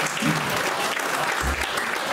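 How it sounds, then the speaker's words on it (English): A short round of applause at an 82–83 reunion night, honoring a daughter's Meath Ladies Gaelic football exploits; a crowd claps densely and steadily, with a faint voice briefly audible. "That deserves a round of applause"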